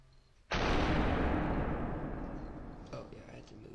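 A single loud, sharp gunshot in the video game SUPERHOT, an abrupt blast whose booming tail slowly decays over several seconds, with faint background sounds near the end.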